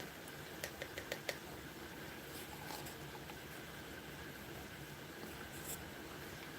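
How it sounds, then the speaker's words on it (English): Rain falls on an Ohio day as a faint, steady hiss, with a few soft ticks and patters near the start and no voices. "It's rainy here in Ohio today."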